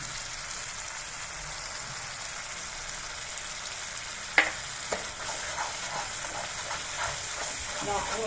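Ground spice powder is stirred into tamarind paste in a pan, a soft continuous sizzle with a few sharper scraping clicks of the spoon partway through, fairly quiet and with no talking.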